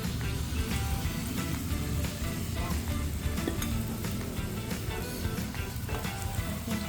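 Shrimp and bitter gourd (ampalaya) sizzle steadily in a pan, a dense crackling hiss broken by frequent clicks and scrapes of stirring, close up and fairly loud with no talking.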